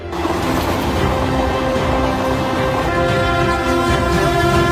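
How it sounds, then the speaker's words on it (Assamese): A fast train rumbles past at speed along the railway track, a loud steady roar with a sustained horn tone running through it, no voices. "দ্ৰুত গতিত আহি থকা ট্ৰেইনখনে এইবাৰ 2 নম্বৰ ট্ৰেকটোৰ ওপৰেৰে পাৰ হৈ যাব বিচাৰিছে"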